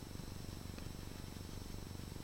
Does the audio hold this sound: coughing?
no